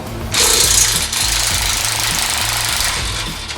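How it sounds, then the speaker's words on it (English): A power wrench rattles loudly and steadily, up close, as it undoes 15mm bolts on the catalytic converters of a Holden VE SS exhaust system during an aftermarket exhaust fitting. "Just undo the front bolts here on the back of the catalytic converters, which are also 15mm."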